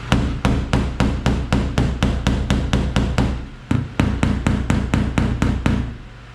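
A pick hammer pecks rapidly at the metal of a Shelby Mustang door, a steady run of loud, close, ringing metallic taps about three per second, with one brief pause before the pecking resumes.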